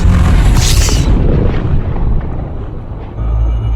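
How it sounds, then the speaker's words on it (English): The frame shift drive of a Type 7 ship engages in the space game Elite Dangerous. A loud, deep rumbling boom carries a bright rushing burst near the start, fades into a dull roar, then swells with low rumble again at the end. "Frameshift drive charging."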